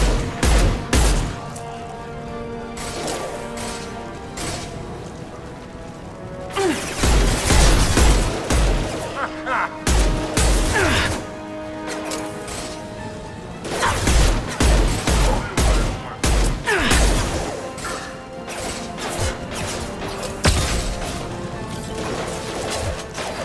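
Heavy weapon fire in Mass Effect comes as loud bursts of rapid gunfire and crashing impacts in several waves, with quieter stretches between them and scattered combat noise.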